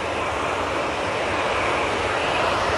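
A Jet2 Airbus A321 airliner roars past at a busy airport as a loud, steady broadband jet engine rush. It holds at a constant level throughout, with no voices.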